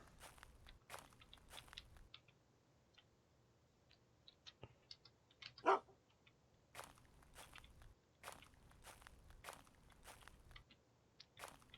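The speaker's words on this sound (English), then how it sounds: "feed the dog some more." A dog eats in the survival game UnReal World, making faint, scattered crunching and chewing bites in irregular bursts over a quiet background.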